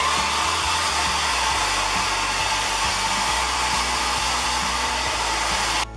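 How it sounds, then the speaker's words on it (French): A hair dryer blows hot air steadily on a synthetic wig, a loud, constant close-up whoosh that cuts off abruptly at the very end. "Puis en utilisant l'air chaud aussi avec le séchoir, ça va tout faire cramer un peu les fibres"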